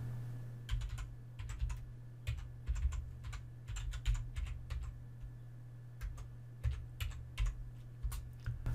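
Quiet keystrokes on a computer keyboard as a file is renamed, coming in short irregular bursts of clicks with brief pauses between them, close and soft.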